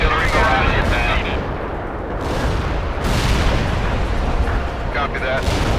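A heavy artillery barrage rumbles through the World in Conflict video game, with continuous loud booming blasts and distant explosions rolling over one another for several seconds.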